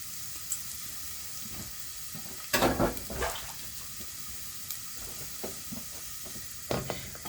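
Garlic goes into a hot pan for chunky vegetable soup and sizzles softly. A few sharper bursts of frying and stirring rise over a low, constant hiss.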